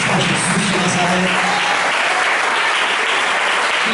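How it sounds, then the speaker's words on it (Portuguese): A church congregation applauds during a Portuguese-language evangelical sermon, a loud, dense wash of clapping that holds steady for the full four seconds, with a low murmur of voices underneath. "Você pode dar uma salva de palmas para Jesus de Nazaré."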